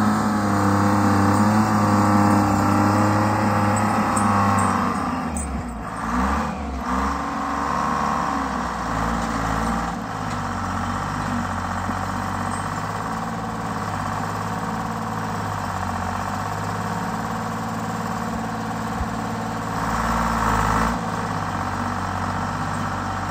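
A skidder's engine runs and idles at an off-grid property, a loud, steady, close mechanical drone that dips slightly once early on and then holds constant throughout, with no voices.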